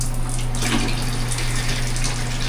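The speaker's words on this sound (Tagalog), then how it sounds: "So, bakit bukas tong pinaka-shower?" Steady, loud hiss and gush of shower water running indoors, a continuous spray with a low mechanical hum underneath.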